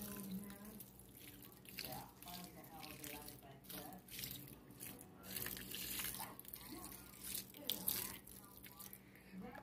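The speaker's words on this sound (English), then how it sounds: "I'll take this mixture, I'll just pour it all over the meat" A liquid mixture splashes and trickles over meat in a bowl, with faint irregular drips and wet pouring sounds at low volume.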